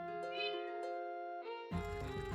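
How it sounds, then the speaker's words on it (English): A crying cat in a video game meows in drawn-out, plaintive wails, several pitched cries running close and clear before a burst of louder game noise cuts in. "Sad crying cats."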